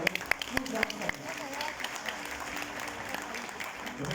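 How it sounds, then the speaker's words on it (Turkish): Audience applause at a Turkish award ceremony, a dense patter of clapping from a crowd with a few sharp louder claps early on, while a voice talks over it. "O yüzden bir kez daha alkışlarınızı rica ediyorum."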